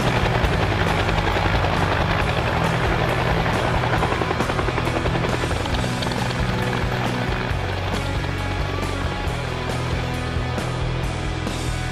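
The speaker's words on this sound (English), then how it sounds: "I also fly Raven 3, the firefighting helicopter" A firefighting helicopter flies close by during a fire district evacuation exercise, its rotor chopping in a loud, steady rapid beat over a deep engine drone for the whole stretch, with no talk.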